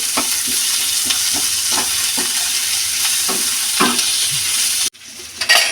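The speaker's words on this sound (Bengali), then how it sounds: "পেঁয়াজটা একদম লাল লাল হয়ে যাবে, ওইভাবে ভাজবো।" Onions frying in a pan until deep red, heard as a constant loud sizzle with rhythmic scrapes of stirring, then a sudden cut to quieter sizzling near the end.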